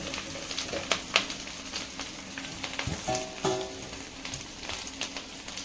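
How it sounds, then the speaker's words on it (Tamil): Curry leaves roasting in hot oil crackle and sizzle steadily, with sharp pops and the occasional scrape of stirring close by. "இப்போ நம்ம கருவேப்பிலையை நல்லா வந்துட்டு ரோஸ்ட் பண்ணிக்கலாம்"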